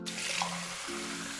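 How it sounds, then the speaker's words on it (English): Water running in the Cognition adventure game, a steady hissing pour with a faint tonal hum beneath, continuous and close, with no talking. "I put water in"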